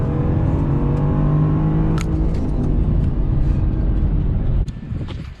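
A drift Corvette accelerates hard in a long, loud pull, its engine roar building steadily with a rising whine over about five seconds before easing slightly near the end; no talking.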